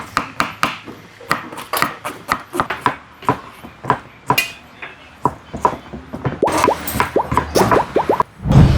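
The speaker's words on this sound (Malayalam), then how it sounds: "അപ്പോൾ നമ്മളിപ്പോൾ അരിയുന്നത് ചിക്കനിലോട്ട് ഇടാൻ വേണ്ടിയുള്ള സവാളയാണ്" A knife chopping onions on a board for chicken biryani, a close run of sharp, regular thuds that quickens into rapid cutting toward the end, with no talk.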